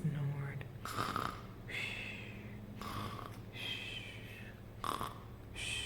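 A storyteller's voice mimics the Gruffalo snoring, several drawn-out rasping snores with breathy pauses between them, close and fairly quiet.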